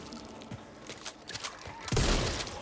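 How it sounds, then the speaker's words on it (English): A shotgun fires in the zombie shooter Back 4 Blood, a sharp blast near the end after scattered softer thumps and game clatter, with the burst ringing out briefly. "shotgun sounds awful"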